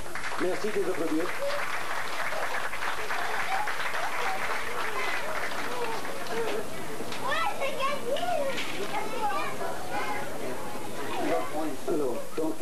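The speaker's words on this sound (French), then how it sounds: "Merci de vous applaudir." Spectators applaud after a martial arts club demonstration in 1996. The clapping is steady and continuous, mixed with children's voices and crowd chatter throughout.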